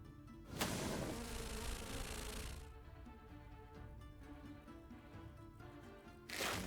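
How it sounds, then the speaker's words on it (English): Swarm of Bees spell cast during a battle in the strategy game Heroes of Might and Magic Olden Era, giving a dense insect-like buzzing drone that swells in and holds steady over game music. "Let's do Swarm of Bees."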